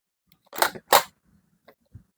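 Two sharp mechanical clicks from the bolt release on a Bohan AR16 / MK8 gel blaster, close and crisp, followed by a couple of faint lighter taps.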